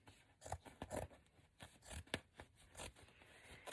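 Fabric being cut with scissors for a personal desk folio, a series of crisp snipping and tearing bursts in an irregular rhythm, close and fairly quiet, with no talking.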